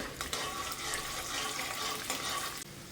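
Peanuts, urad dal and chana dal sizzle in hot oil over medium heat, a steady crackling fry with occasional stirring scrapes, close and moderately loud with no talk.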